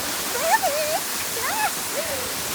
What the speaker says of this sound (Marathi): धबधबा दाखवते. धबधबा वॉटरफॉल